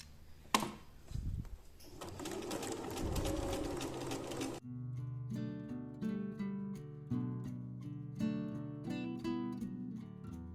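A sewing machine backstitches a seam on an elastic-waist skirt, opening with a short rapid burst of stitching, then pausing and running forward and back in several clicking, whirring passes with no talking.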